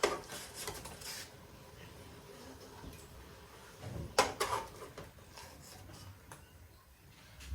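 Two roasted stuffed fish being lifted from a pan, with clattering metal utensil and pan knocks in a couple of bursts over a quiet kitchen background.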